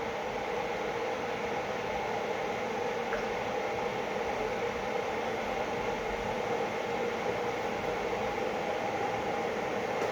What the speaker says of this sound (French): La baignoire fait beaucoup de bruit.